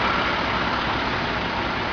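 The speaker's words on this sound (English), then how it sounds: "all the diesel engines all running, warming up" Several diesel engines idle and rumble together in an early-morning oil town, a steady, even drone of vehicle engines with no speech.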